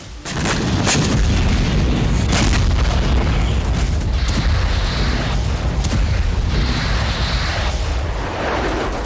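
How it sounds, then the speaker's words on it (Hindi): Russian FAB aerial bombs and KH-101 cruise missile strikes produce loud, dense, continuous booming explosions with overlapping blasts and rumble throughout, no speech. "इसके अलावा रूस ने फैब एरियल बमों से हमला किया।"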